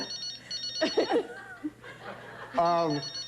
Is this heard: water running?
no